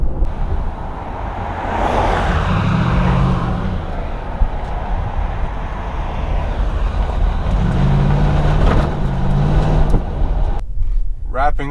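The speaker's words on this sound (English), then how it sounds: "I'm going about 50 right now, and the wind noise is certainly manageable." Steady road and wind noise inside a Nissan Titan Pro4X truck cruising at about 50 mph, a continuous low rumble with broadband rush that holds level throughout, ending abruptly near the close.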